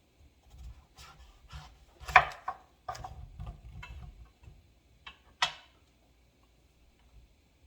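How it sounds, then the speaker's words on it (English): A knife cuts up a breadfruit on a board, producing a handful of soft, scattered taps and scrapes, close but quiet, with two sharper knocks and long pauses between strokes. "So I'm just gonna cut up this breadfruit right now."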